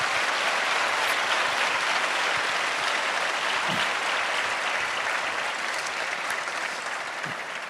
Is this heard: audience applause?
yes